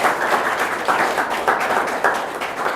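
An audience applauding at a residential coaching centre for armed forces recruits, a steady wash of clapping throughout with rising and falling bursts, fairly close and loud, no voices over it.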